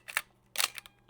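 Manual 35mm film camera with its shutter fired twice, each release a crisp mechanical click-and-snap; the pair is close and fairly quiet against a silent background.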